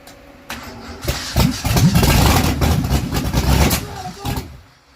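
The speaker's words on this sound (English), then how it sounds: "give it 2 pumps of the throttle and try to start it" A Ford Mustang is started for the first time after an engine swap: the starter cranks for about a second, then the engine catches and runs loud and rough for a few seconds before dropping away.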